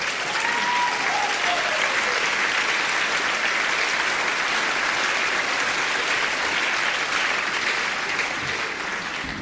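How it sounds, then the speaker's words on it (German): Steady, dense audience applause fills the whole stretch at an even, loud level, with a faint tonal whistle near the start and no clear voices over it. "Da klatscht man doch nicht."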